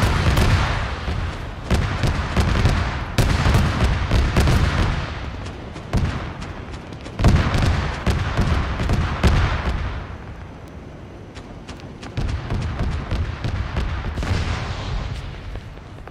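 Gunfire in an Arma 3 woodland defence battle, with dense bursts of rifle and automatic shots cracking repeatedly over a rumbling background, sometimes in rapid clusters and sometimes sparser.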